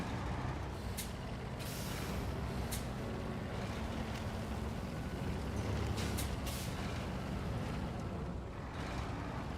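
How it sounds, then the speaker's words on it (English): Air hissing out of truck tires in the off-road game Expeditions: A MudRunner Game, a steady loud rushing release over rumbling engine noise, with a few brief sharper bursts of hiss throughout. "Let's just go ahead and let the air out of our tires so I get more grip."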